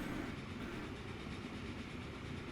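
Trains running in the railway simulation game Transport Fever 2, a steady rolling rail clatter with a faint rhythmic clickety-clack, quiet and continuous without talk.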